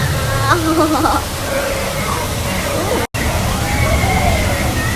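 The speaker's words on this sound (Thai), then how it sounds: "มีน้ำตกด้วยนะจ๊ะ" Artificial waterfall at Legoland theme park, a steady broadband rush of falling and splashing water heard close by under crowd murmur, with a brief dropout midway.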